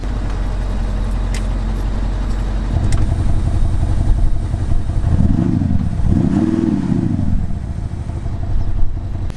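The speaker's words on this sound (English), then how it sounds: "a little sound box that enhances the sound of the car. It gives it a nice little purr" An Audi SQ7 engine in dynamic drive mode with a sound enhancer idles, then revs up twice in quick succession with a rising, throaty growl before settling into a steady rumble.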